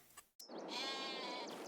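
A single sheep in Farming Simulator 22 gives one drawn-out, wavering bleat, close and clear, after a brief faint click.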